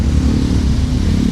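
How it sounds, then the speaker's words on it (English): A loud motorbike engine rumbles steadily on a busy street in Angeles City, Philippines, a close, continuous low drone that holds through the moment. "if you hear a loud motorbike here, just give them plenty of room"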